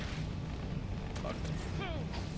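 A grenade blast from a grenade jump in the video game Halo: a deep, rumbling boom sits under game noise. Brief tonal game sounds and voices follow.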